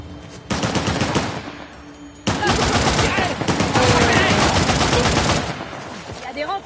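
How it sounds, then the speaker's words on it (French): Loud, sustained automatic gunfire rattles through a shootout in the video game Uncharted: The Lost Legacy, with dense rapid bursts after a short pause and voices mixed in beneath the shots. "On se tire dessus!"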